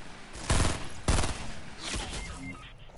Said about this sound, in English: They're shooting from everywhere.